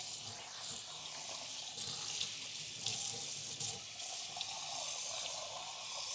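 Hot water running steadily from a kitchen sink tap, a constant hissing splash with slight shifts in flow, moderately quiet and uninterrupted, with no talking.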